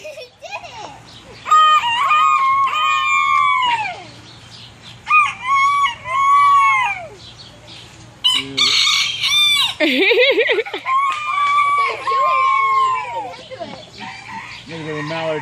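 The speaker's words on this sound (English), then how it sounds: "That's a full-size rooster." A full-size rooster crows repeatedly and loudly at close range, several long cock-a-doodle-doo calls with clucking between them, as people chatter and react nearby.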